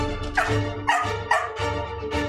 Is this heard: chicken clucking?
no